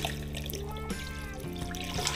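Kombucha juice is poured onto a scoby in a steady, close liquid trickle that runs continuously for a couple of seconds.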